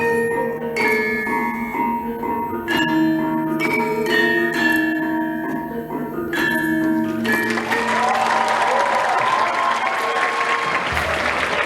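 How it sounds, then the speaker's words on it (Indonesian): Audience clapping at a university student activity showcase, following a student dance league performance; mixed with music at first, then dense, sustained applause swells and fills the space for several seconds. "Sekali lagi, beri tepuk tangan yang meriah"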